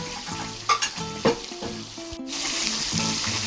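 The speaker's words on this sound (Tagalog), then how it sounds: "Ngayon po ay ilalagay ko na ang aking paminta." Black pepper going into pork sisig frying in a pan, a steady close sizzle with a few brief stirring scrapes and clinks, no talking.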